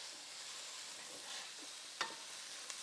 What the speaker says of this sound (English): we're gonna mix it in with all the peppers, onions, and garlic